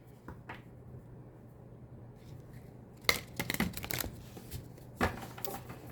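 Cards are shuffled for a tarot-style reading: quiet handling at first, then sharp riffling bursts of crisp snaps and flutters around the middle and again near the end, close and dry.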